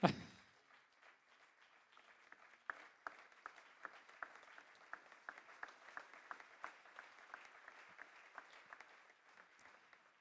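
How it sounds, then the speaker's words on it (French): Sparse, faint applause from a small audience at a trophy presentation during a university joint-laboratory ceremony, scattered distinct claps spread across the room at a distance. "On va vous applaudir"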